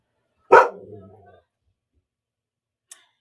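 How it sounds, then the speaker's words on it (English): Dogs bark through an open door in a single loud burst near the start, trailing off after about a second, with a faint short noise near the end. "The door's open and the dogs are barking."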